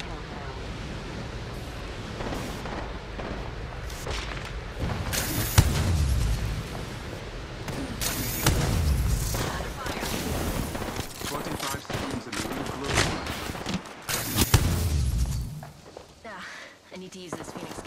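Gunfire in an Apex Legends ranked battle-royale match: bursts of rapid automatic shots and sharp cracks keep breaking over loud, busy game sound, with spoken voice lines now and then.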